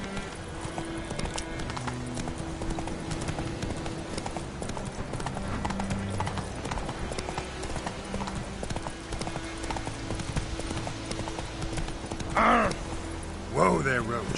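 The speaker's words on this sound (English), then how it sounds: "Whoa there, Roach." Rhythmic hoofbeats from the horse Roach in The Witcher 3 video game run steadily throughout, with a couple of brief neighs or whinnies near the end and a voice speaking over the galloping.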